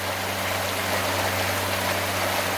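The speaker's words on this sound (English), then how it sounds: "That's a little weir right there." Water pours steadily over a small weir on the Hiwassee River in Tennessee, a constant broad rushing wash heard from a catamaran houseboat, with a low engine hum beneath.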